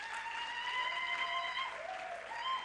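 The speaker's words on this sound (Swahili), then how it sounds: "Tupigie makofi." An audience applauds steadily during a live band event, with the clapping running evenly under sustained musical tones.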